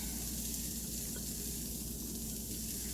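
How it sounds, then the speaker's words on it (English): A whole chopped onion, about two cups, hits a hot pan for golden yellow vegetable curry, setting off a loud, dense, continuous sizzle that holds steady close up. "So I will now add in my onions"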